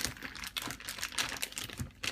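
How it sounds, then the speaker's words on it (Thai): A plastic zip-lock bag is handled and crinkled close by while marinated squid is packed into it for Japanese-style grilling, giving dense rustling and crackling with no talking. "ใส่ถุงซิปล็อก"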